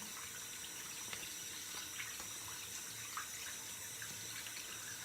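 Tap water runs steadily into a sink while a face is rinsed after a straight-razor shave, a constant close hiss with faint splashes and no speech.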